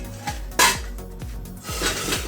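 A hot cooking pot of paruppu urundai kuzhambu lifted off the stove with a cloth, giving close metallic clanks and scrapes of the vessel against the burner and a few light knocks.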